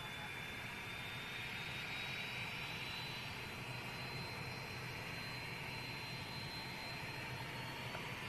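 Airbus A380 jet engines at Manchester Airport, a steady distant whine and broad roar with a slowly rising high tone, continuous and fairly faint, no voices.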